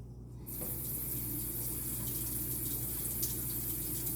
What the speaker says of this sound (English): Making sure that the water faucet isn't turned up so high to avoid any droppings falling around the sink area.